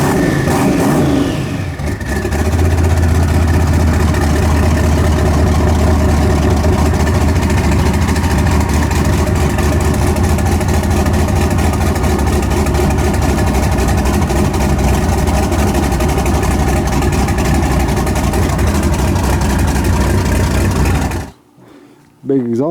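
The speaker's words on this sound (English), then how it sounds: "Big exhaust leak." A loud engine with a big exhaust leak idles roughly with a raspy, sputtering exhaust note that runs continuously before cutting off abruptly near the end.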